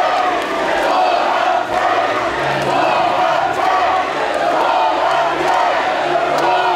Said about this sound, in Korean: 우리 당 대표 후보자와 여러분께 뜨거운 성원의 박수를 부탁드립니다.